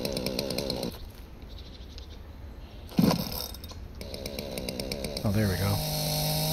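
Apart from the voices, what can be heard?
chainsaw cutting up a log, from a video game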